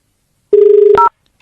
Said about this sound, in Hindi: उनको फोन लगाता हूँ